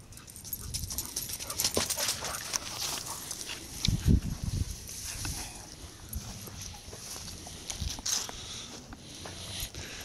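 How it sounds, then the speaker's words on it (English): Puppies pant and whimper softly at close range, with shuffling movement and a few scrabbling thumps in a noisy outdoor setting, no speech. "Puppies, come on, let's go."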